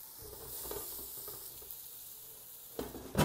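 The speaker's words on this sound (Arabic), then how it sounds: "والحين نحط الخضار بالقلايه الهوائيه بعد ما سخنت" Vegetables going into a preheated air fryer, with a soft, quiet sizzling hiss and light rustles, then a couple of sharper clattering knocks near the end.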